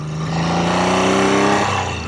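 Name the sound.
Triumph T160 Trident motorcycle engine revving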